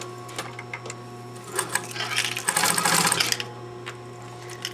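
A sewing machine back tacks at the start of a sleeve underarm seam: faint scattered ticks, then a short burst of rapid mechanical stitching in the middle, fading back to light clicks.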